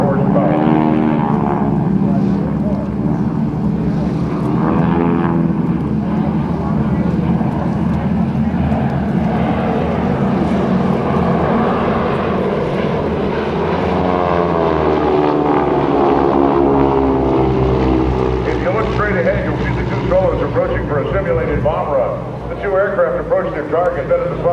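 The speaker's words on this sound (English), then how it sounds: "The R1340 is a 9-cylinder supercharged radial engine capable of producing 600 horsepower." Two SNJ trainer aircraft with 600-horsepower nine-cylinder supercharged Pratt & Whitney R1340 radial engines fly past at an air show, a steady loud propeller drone with shifting pitch running beneath continuous announcer talk throughout.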